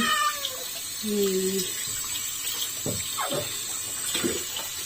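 Water runs from a tap during a pet cat's bath, a soft steady splash under a few brief sounds of handling, with short meows and faint speech-like noises in the room.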